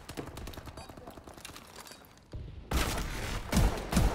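Shotgun fire during an online Call of Duty: Advanced Warfare multiplayer match, with loud blasts building in the second half amid game noise and some talk.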